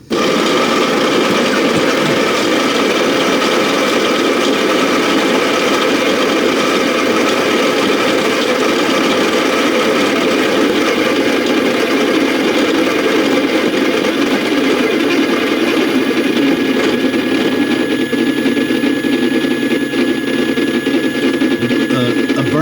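A burr coffee grinder grinds beans in a steady, unbroken mechanical whir that holds at an even loudness for over twenty seconds, close up and with no pauses.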